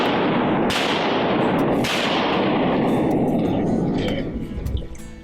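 Shotgun fire on a duck hunt: two loud, sharp blasts about a second apart over a steady outdoor rush, with voices talking nearby.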